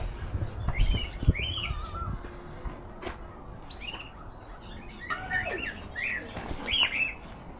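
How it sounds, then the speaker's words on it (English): Birds in a town aviary in Bury St Edmunds, including a golden pheasant, give repeated sharp chirps, squawks and whistled calls at moderate distance, scattered irregularly over a quiet background with a few thumps. "Would you believe they even have an aviary here?"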